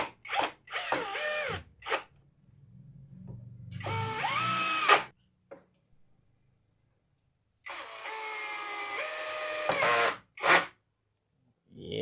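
MKODL BX8800 impact drill, a DeWalt-style tool, runs at speed 2 in two sustained bursts of whirring motor with a pitch that rises and settles, separated by brief pauses and short trigger blips.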